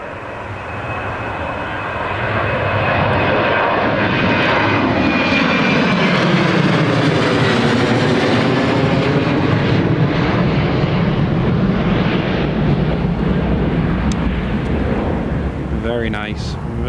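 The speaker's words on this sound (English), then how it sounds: "Meanwhile, in front of you, you can see this Jet2 737-800." A Jet2 Boeing 737-800 taking off from runway 25 at Newcastle International Airport: loud, rising jet engine roar that swells as the aircraft passes, with wind buffeting the microphone and a voice speaking over it.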